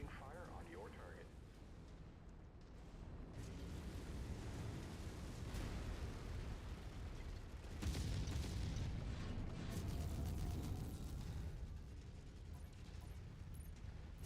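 Booming explosions and heavy weapon bursts from a MechWarrior 5 battle as allied mechs coordinate fire on a target, loud and sustained with a bigger blast around the middle, under game radio chatter.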